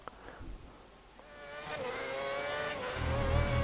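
An F1 2010 race car in the video game revs up on a flying lap, its engine pitch climbing and holding as a steady, moderately loud whine with no talking.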